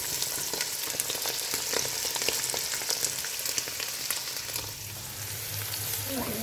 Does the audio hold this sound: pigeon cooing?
no